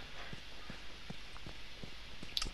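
Horse hooves clip-clop at a steady walking pace in The Last of Us, about one soft thud every third of a second, over a low ambient hiss.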